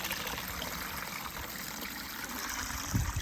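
Spring water from a source in Kadoba pours steadily into a container, a continuous close trickling rush at even level with a slight gurgle near the end and no voices.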